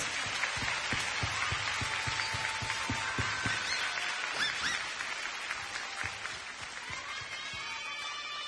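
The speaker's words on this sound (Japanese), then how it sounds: "スタッフに拍手、みんな" Applause from a large concert crowd at a live show, dense steady clapping that continues throughout and eases slightly toward the end.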